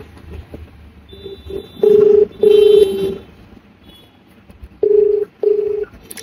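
Touch-tone phone keypad beeps while dialing a call to mother, four steady tones in two pairs with short gaps, each clear and close over a quiet room.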